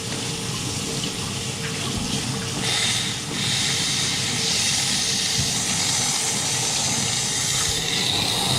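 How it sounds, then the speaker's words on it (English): An espresso machine's steam wand in a busy roastery cafe hisses continuously and loudly, a dense, steady rush of steam with a slight swell partway through. "you can see the steam gets up to temperature really fast"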